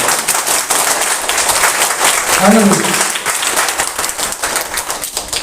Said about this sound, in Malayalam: നിങ്ങൾക്ക് എല്ലാവർക്കും ഇഷ്ടമായെങ്കിൽ ഒന്ന് കൈയടിക്കാം